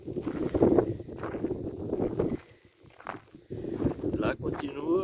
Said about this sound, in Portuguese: muito vento por aqui.